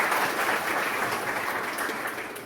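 A seminar audience claps for friends from the GPDI church, a brief burst of dense, loud clapping that tapers slightly.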